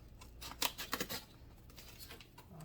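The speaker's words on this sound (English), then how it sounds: "Let me just grab my scissors and make sure we get it all the way" Scissors snipping through a paper gift bag, a few quick close cuts bunched near the start and middle, then quieter rustling of the bag.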